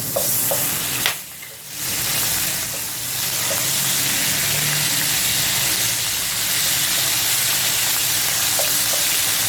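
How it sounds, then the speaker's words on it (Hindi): Garlic and ginger paste frying in hot oil in a pan, giving a steady close sizzle that keeps going throughout, broken by a brief dip and a few light stirring clinks. "अब इसमें डालूंगी लहसुन अदरक का पेस्ट"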